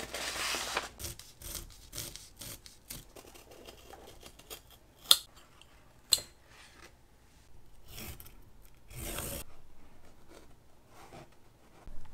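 Scissors snip and rasp through fabric being cut for a sewn wizard hat, a quiet close series of irregular cuts and rustles with a few sharper clacks and pauses between strokes.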